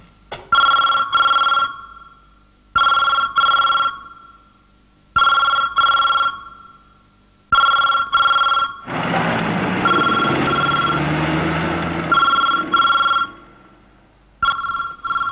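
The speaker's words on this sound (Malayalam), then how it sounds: "ഫോൺ റിങ്ങുന്നുണ്ടല്ലോ" Old-style telephone bell ringing in repeated double bursts, loud and close, in a Malayalam film scene; a stretch of broadband noise and low rumble interrupts the middle while the ringing continues.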